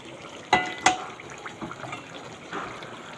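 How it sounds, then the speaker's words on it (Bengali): Hot water poured into a pot of cooking meat curry, with two sharp splashes followed by a soft, steady liquid wash. "এর মধ্যে দিয়ে দেবো একটু গরম জল।"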